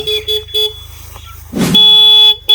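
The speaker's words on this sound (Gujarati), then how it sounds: "હોર્ન બોર્ન સંભળાય કે નહીં તમને" A car horn honks in short repeated toots, fairly loud and close, with a longer blast near the end, in a street setting with no talk.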